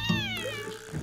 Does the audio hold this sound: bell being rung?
no